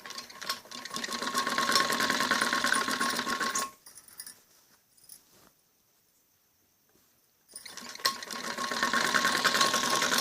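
Sewing machine stitching kameez fabric runs in a fast, steady whir, stops for a few seconds of near silence while the piece is turned, then starts stitching again at the same pace.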